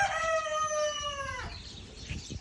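A rooster at a backyard chicken coop crows once with a clear, drawn-out call, and soft clucks and outdoor farm noise follow.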